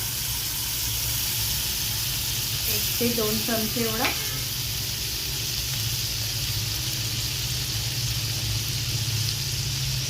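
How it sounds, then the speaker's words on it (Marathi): Butter sizzles steadily on a hot tawa griddle as dabeli buns toast, a constant close frying hiss with a voice talking over it partway through. "तव्यावरती आपण मस्का टाकून ह्याला भाजून घेणार आहोत"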